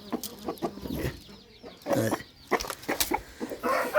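Chickens and roosters cluck and call in short bursts at a poultry farm in Warangal, Telangana, several birds close by, with a busy farmyard background of scattered squawks.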